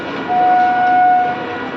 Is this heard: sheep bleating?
no